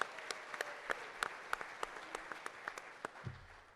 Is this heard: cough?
no